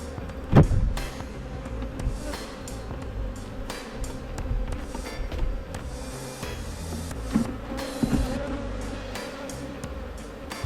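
A honeybee swarm hums in a steady buzzing drone, close and continuous, with occasional knocks and scraping handling noises over it and no talking.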